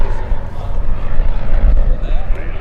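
A light propeller aircraft lands in a gusty crosswind at EAA AirVenture Oshkosh, its engine a steady low rumble with wind buffeting, while a voice talks over it.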